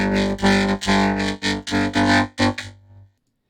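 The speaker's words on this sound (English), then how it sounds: "And that's vocoding." Voice fed through a vocoder effect, a short run of repeated syllables turned into buzzy, harmonic-rich robotic tones with distortion, close and loud, ending in a held synth note that cuts to silence.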